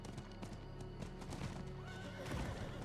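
A horse in Diablo 4 whinnies and snorts while its hooves clip-clop steadily over dirt, close and fairly loud amid game ambience, with no voices.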